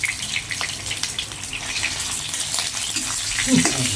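Pork ribs fry in a pan with hot oil for a chili paste stir-fry, giving a continuous crackling sizzle with scattered sharp spits and pops of splattering oil.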